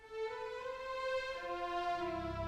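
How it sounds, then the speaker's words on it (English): Violins carry a sustained main melody in long bowed notes over a soft orchestral bed, with a low swell entering near the end. "We have our main melody, which is being played in the violins."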